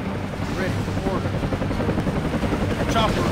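Comanche attack helicopter in the real-time strategy game Command & Conquer Generals Zero Hour, a steady loud rotor chop and engine drone running throughout, with game voice lines in the background.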